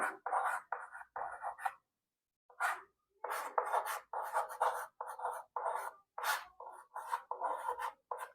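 Pen strokes writing Roman numerals by hand on paper, close and distinct, in short scratchy bursts with brief pauses between characters and no talk.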